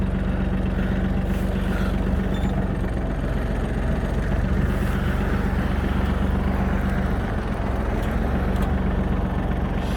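A Japanese ISEKI SIAL193 mini tractor's engine runs steadily at idle during a hydraulics check, a continuous low rumbling drone with little variation throughout.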